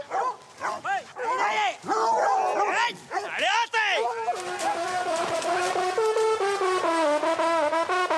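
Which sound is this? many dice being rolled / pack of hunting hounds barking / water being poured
pack of hunting hounds barking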